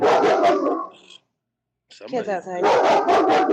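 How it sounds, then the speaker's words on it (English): A German shepherd dog barks in a short burst of harsh, rapid barks during a gap between stretches of people talking, the barks fairly close and loud. "That's a dog"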